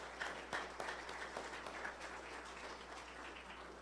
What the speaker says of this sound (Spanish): un fuerte aplauso a esas abuelitas, a esas madres